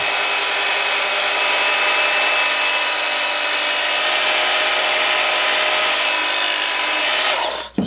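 A Work Sharp belt grinder runs steadily as a hollow grind hunting knife is drawn across the spinning belt, giving a loud, continuous abrasive hiss and whine that cuts off abruptly at the end, with no voices.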